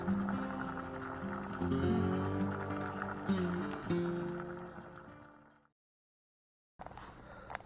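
Water pours and gurgles into a swamp at Palmetto State Park in South Texas, a close, tonal rushing flow that swells and slowly fades to silence, then resumes briefly near the end.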